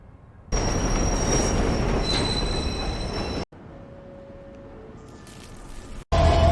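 A train passes on rails with screeching wheel squeal, loud and sustained for a few seconds before cutting to a quieter rolling rumble, then an abrupt loud burst at the end.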